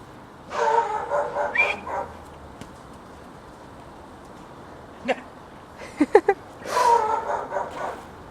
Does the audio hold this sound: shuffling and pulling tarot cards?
no